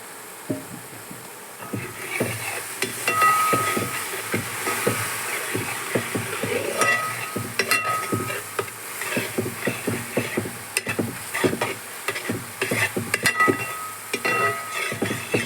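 Grated coconut and beaten rice cooking in 250 g of jaggery syrup for aval vilayichathu, with a dense run of rapid clicking pops and ladle taps over a low simmering hiss and no voices.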